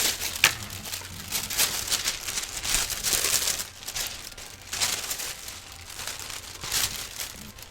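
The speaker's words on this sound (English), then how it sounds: "Sorry if I'm being loud with crinkling paper." Paper crinkles and rustles nearby while someone handles it during a cosplay crafting session. The crackling is continuous and uneven, with brief louder crumples and no talking.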